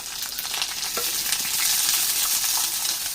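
Halved small onions frying hard in a pan for a Kerala theeyal while they are stirred, giving a loud, dense, continuous sizzle with faint stirring scrapes close by.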